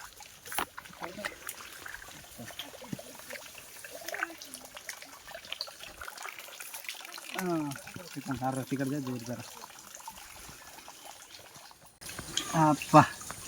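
Spring water trickles softly through a forest near a Bhima temple. The quiet, continuous flow is faint, and a voice is heard briefly in the middle.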